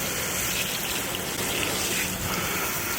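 Water sprays steadily to rinse dirt off a car tire, a dense continuous hiss close to the microphone.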